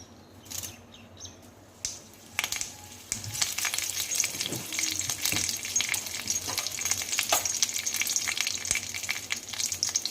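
Curry leaves and mustard seeds sizzle and crackle in hot white oil, a few sharp pops at first, then a steady loud frying hiss with occasional spatters.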